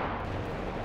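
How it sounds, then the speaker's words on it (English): Bombs bursting during an air raid in a WW2 video game, a dense, continuous low rumble of explosions heard close and loud with no distinct separate blasts. "I hear the bombs."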